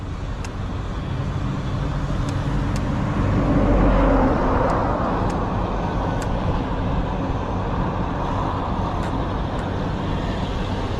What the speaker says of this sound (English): See, the lorry drives off.